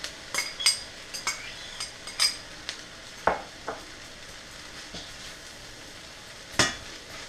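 Quinoa fried rice with peppers, peas, carrots and Worcestershire sauce is stirred in a pan: scattered spoon scrapes and light clinks over a soft sizzle, with no talking.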